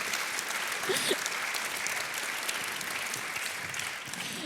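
An audience at an evening mentoring event applauds a mentor, a dense steady clapping that holds throughout without talk over it.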